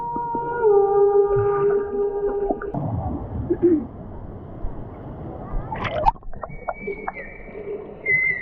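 Recorded dolphin whistles and squeaks play underwater at a Volcano Bay water park ride, a string of gliding tonal calls over murky water noise, with a brief sharp click midway.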